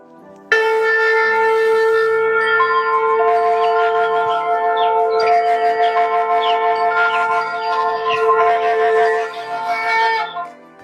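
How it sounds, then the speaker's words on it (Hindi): A talking sound book plays a conch shell, giving a sustained, bright, steady horn-like tone for about ten seconds with faint chiming and twittering layered over it, heard alone. "कोई शंख है,"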